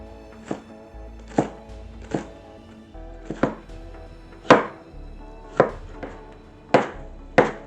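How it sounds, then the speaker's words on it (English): A knife chops parsley, onions, thyme and persimmon on a cutting board while a duck dish is prepared, giving about ten sharp, close thunks at an uneven pace with quiet gaps between them. "as well as chopping up some parsley, onions, thyme, and persimmon."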